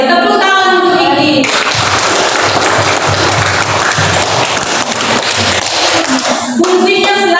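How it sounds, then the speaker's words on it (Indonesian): A group of scout schoolchildren breaks into loud, dense applause for a pupil named Iki, lasting several seconds between stretches of voices at the start and end. "Tepuk tangan untuk Iki."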